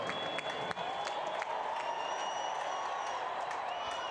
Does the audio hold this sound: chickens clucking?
no